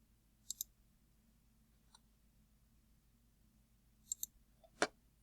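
Computer mouse clicks while assembling parts in 3D software, sparse sharp close clicks, some in quick pairs, separated by quiet gaps with no talk.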